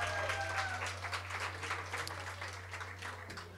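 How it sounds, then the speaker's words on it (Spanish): Applause for Víctor Morales from a live audience at a horror-story comedy show, a steady dense patter of many hands clapping, fairly faint and distant over a constant low hum, with no voices on top. "fuerte aplauso para Víctor Morales"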